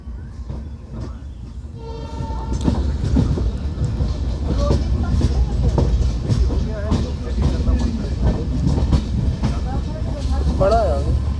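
Train pulling into Malipur railway station in Ambedkar Nagar district on the Ayodhya to Varanasi line, with loud rumbling wheels, clattering carriages and a horn blast, heard from on board while people talk.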